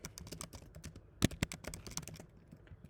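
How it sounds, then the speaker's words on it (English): Computer keyboard keys tapped in quick irregular bursts while entering a name, with two louder, sharper strikes near the middle and steady clicking on either side; no voices. "type in your name"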